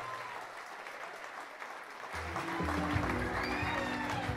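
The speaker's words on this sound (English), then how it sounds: "An equally big round of applause for a proud mother and her son on his wedding day." Wedding guests at a reception clap for the groom and his mother, the applause rising and swelling louder midway as music or voices join underneath.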